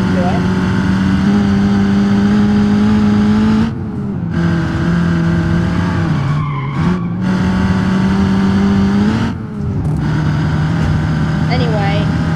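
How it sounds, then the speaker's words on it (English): A Cherrier Vivace gasoline car in the BeamNG.drive video game drives with a steady, loud engine drone that shifts pitch through several gear changes and brief cutouts, with someone talking over it. "It's a gasoline engine, so you'd expect it to be fast."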